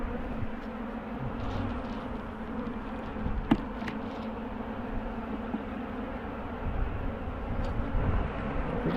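Honey bees in an opened hive with fresh brood and low honey stores give a dense, steady buzzing drone, close and continuous with no voices, occasional individual bees whizzing past.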